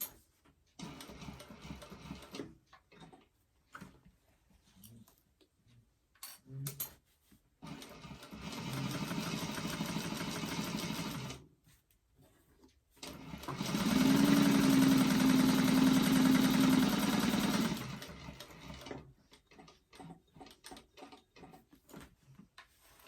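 A sewing machine backstitches while stitching a bag, its motor whirring in two steady bursts of several seconds each, with quieter handling noises and pauses in between.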